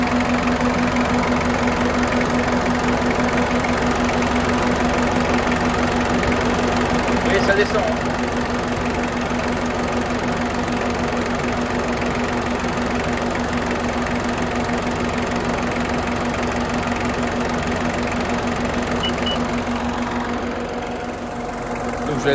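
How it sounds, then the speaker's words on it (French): A Peugeot 205 engine runs steadily with large radiator cooling fans roaring, a loud constant whir and hum close by, easing slightly near the end, while someone speaks briefly over it. "Je mets le gros ventilateur, donc vous allez voir là ça va descendre très rapidement."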